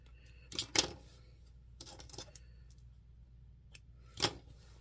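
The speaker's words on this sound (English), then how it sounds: "There's a string that needs to be trimmed." Scissors snip at a loose backing string in a few sharp, separate cuts, close and fairly quiet, with pauses between them.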